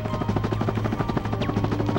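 Helicopter blades whir steadily in the Ratchet and Clank video game, a continuous rhythmic chopping drone held at an even, fairly loud level for two seconds with no talking.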